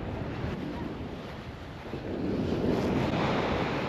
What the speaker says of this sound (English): I'm glad I'm not the only one that's annoyed by the wind